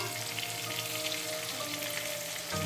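Paneer sautéing in a pan with green chillies, a steady close sizzle with light stirring, briefly louder near the end.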